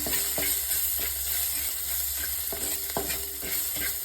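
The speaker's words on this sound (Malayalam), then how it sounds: "മഞ്ഞൾപ്പൊടി ഇട്ടിട്ട് നമുക്ക് ഇളക്കാം" Turmeric powder being stirred in a pan for a Kottayam-style fish curry, with a spoon scraping in repeated strokes, roughly eight over four seconds, above a soft constant sizzle, close up and without speech.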